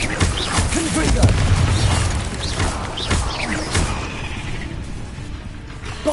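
A Confringo fire spell blasts in Hogwarts Legacy, a booming explosion with rumbling low-end bursts and crackling debris that roll on loudly, with battle noise and spoken voices over it.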